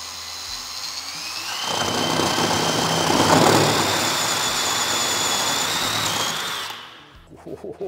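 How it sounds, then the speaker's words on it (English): A power drill whines loudly for several seconds as it bores into a ceiling, its high-pitched motor steady, then winds down and stops. "Now I can put the drill on my mark."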